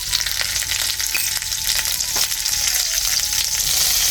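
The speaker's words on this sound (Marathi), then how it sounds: "असा सगळा मसाला याला परतला पाहिजे हळद मिठाचा." Drumstick masala with turmeric and salt sautéing in a pan, a steady close sizzle with stirring scrapes running throughout, no voices.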